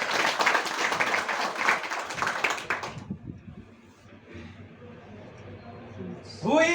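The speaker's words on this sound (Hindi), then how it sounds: "तो इनके लिए जोरदार ताली हो जाना चाहिए।" An audience at a DXN products presentation claps in a dense, steady burst for about three seconds, then the sound thins into a quieter room murmur with a voice rising at the end.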